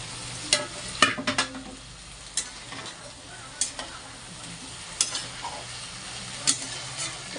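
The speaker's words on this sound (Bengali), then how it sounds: "মশলাটা ভালো করে কষিয়ে নিচ্ছি।" Spice masala with turmeric, sweet corn and potatoes sizzles as it is sautéed in a pan, with intermittent sharp clicks and scrapes of a stirring utensil over a soft continuous fry.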